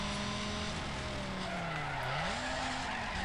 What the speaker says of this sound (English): Oh wow, that was a nice drift actually.